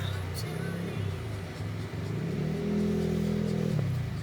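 A motorcycle arriving at a resort parking area, a low engine rumble that shifts pitch as it revs and approaches, fairly faint over background noise.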